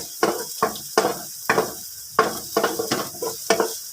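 Garlic and ginger sautéing in a pan for chicken sinigang, with repeated stirring scrapes and bursts of sizzle in an irregular rhythm, close and fairly loud, no talking.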